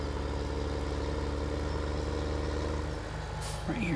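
Truck in Farming Simulator 17 parking on a farm, its engine idling in a steady low drone with a short air brake hiss and rising whine near the end.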